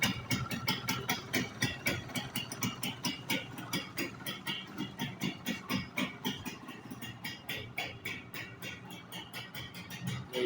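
A 1996 Yamaha YB 100 motorcycle engine runs steadily at close range, its rapid, even pulsing exhaust beat loud and continuous throughout with no talking over it.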